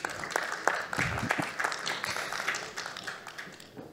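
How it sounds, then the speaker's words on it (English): Applause from a conference audience welcoming a speaker, a moderate patter of many hands with a few sharper individual claps, gradually thinning out and fading toward the end. "Je vous demande également de l'applaudir."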